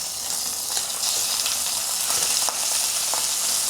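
Beef searing in hot oil in a pan for a Cantonese beef stew, a continuous bright sizzle with small crackling pops scattered throughout, close and steady with no voices.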